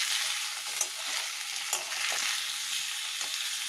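Paneer fries lightly in a pan, giving a soft, even sizzle with a few faint stirring taps, close by and fairly quiet, with no voices.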